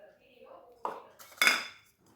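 Chopped vegetables for a mango salsa are tossed in a bowl with a spoon, giving a few close clinks and scraping, rustling strokes against the bowl.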